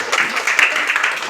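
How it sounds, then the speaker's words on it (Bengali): Applause for the winning team at a school debate results announcement: a short burst of dense, steady clapping from a crowd filling the room, fairly close and even in loudness throughout. "ওদের জন্য হাততালি"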